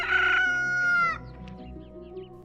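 A rooster crows once, loud and close, its long strained call falling off, followed by a few faint clucks.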